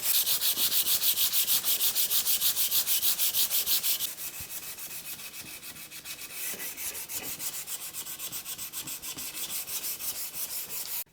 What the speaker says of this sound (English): we can get some 240 on this and just get it finished sanded